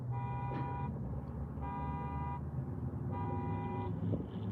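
Car alarm honking in a repeating pattern, three long tonal blasts separated by short gaps, heard from some distance under a steady low road rumble from inside a car.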